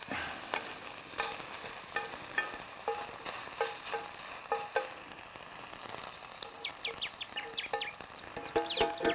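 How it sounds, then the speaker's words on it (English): Chips fry in oil over a campfire at a bush camp in the Victorian High Country, a steady crackling sizzle with scattered pops and light taps and a few high chirps toward the end, with no talk. "I'll put a bit more oil on those chips, I reckon, so they don't dry out too much."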